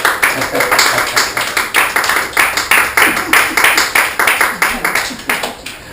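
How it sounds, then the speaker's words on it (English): Wedding guests clap for the newlyweds after the kiss, a dense round of applause holding steady at close range, with some voices mixed in. "And everybody can give him a round of applause"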